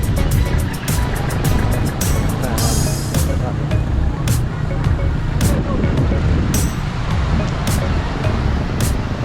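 Road traffic on the way to Tagaytay: a continuous loud rumble of car and truck engines with sharp clicks and knocks scattered over it, likely recorded from a moving vehicle, with voices at times.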